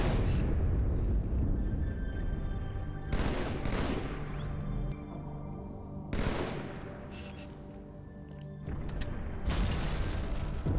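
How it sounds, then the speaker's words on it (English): Booming explosions with dense rolling blasts, like a fusillade, as the ship is destroyed in the Halo 2 Anniversary video game; several loud bursts around three, six and nine seconds stand out over a continuous roar and music. "that explosion is way different than the other one"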